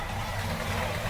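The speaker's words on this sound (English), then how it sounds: "that car has quite an engine" A car engine rumbles at a Christmas parade, a steady loud low drone with dense broadband crowd and street noise around it.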